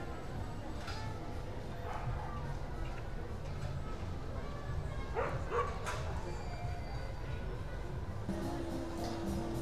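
Small and large dogs bark and yip in a busy dog park on a weekend in Mexico, short bursts scattered at mid distance over steady outdoor crowd noise and chatter.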